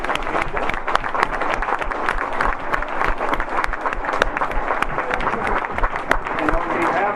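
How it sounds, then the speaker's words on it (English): An audience at a community forum claps in a sustained, dense round of applause, loud and continuous throughout, with faint voices mixed in. "let's give a round of applause."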